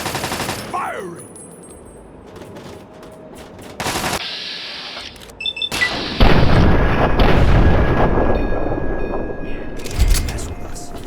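Gunfire in Fallout 3, a loud dense burst of rapid shots and booming impacts building over several seconds after a quieter stretch, with a voice briefly heard.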